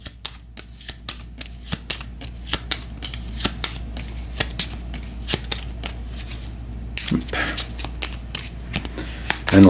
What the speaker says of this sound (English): So we'll give these a shuffle.